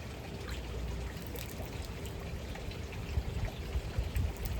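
Pool water test tube being rinsed out, a quiet close trickle and splash of running water with faint clinks.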